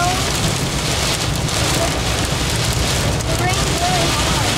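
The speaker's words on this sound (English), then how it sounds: "No, tell them we're in hail." A pea-size hail storm with tree limbs coming down pelts hard and without a break, a loud, dense, continuous patter and drumming that fills the whole stretch.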